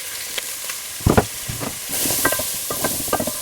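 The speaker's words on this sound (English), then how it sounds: "So oil in, and then my onions go straight in there after that" Onions hiss and sizzle in hot oil in a pan, with a steady frying crackle and a few louder pops and stirring bursts over a few seconds.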